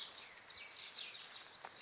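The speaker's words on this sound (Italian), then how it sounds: "il canto degli uccelli" Birds sing outdoors on a sunny spring day in Gemona del Friuli, near a flowering cherry tree with bees at work; faint, high chirps and short calls come through continuously at a distance over quiet ambience.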